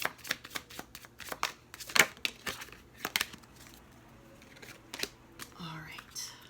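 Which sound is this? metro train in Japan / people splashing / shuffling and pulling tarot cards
shuffling and pulling tarot cards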